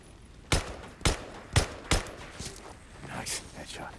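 Four sharp gunshots in quick succession at a steady rhythm in the video game Days Gone, fairly close, followed by softer scattered impacts and rustling.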